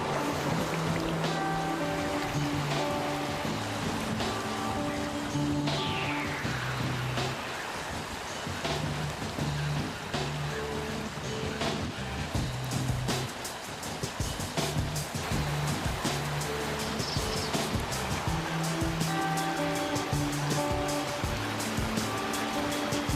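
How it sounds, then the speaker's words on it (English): Whitewater rapids on a river during a canoe journey give a continuous broad rushing roar, with a steady tonal musical bed running beneath the water noise. "the challenge of whitewater"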